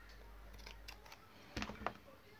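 Scissors cut fabric for a Marie Antoinette wall hanging. Two quick, faint snips sound close by in a quiet room.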